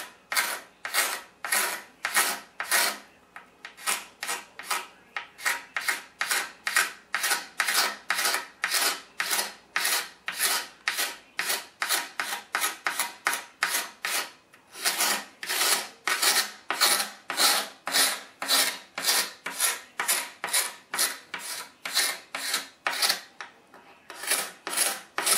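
Old finish being scraped off a Philco 38-62 radio cabinet, a loud, close, rhythmic rasping with steady back-and-forth strokes repeating continuously, pausing only briefly a couple of times.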